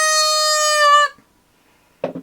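A performer imitates a goose with a loud, sustained, reedy honk lasting about a second, delivered as a theatre sound effect. Near the end comes a brief, faint bit of breath or rustle.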